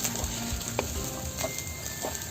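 Spice mix with ginger sizzling in a pan for a potato and pea curry, a steady close crackling fry with light spoon stirring and a faint clink, no one talking.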